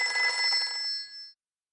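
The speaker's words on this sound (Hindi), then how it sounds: "एक तो ये फोन बहुत बेवक्त बजता है।" A telephone bell rings in a domestic drama scene, one sustained burst of bright metallic trilling. It is fairly close and heard alone, then cuts off abruptly.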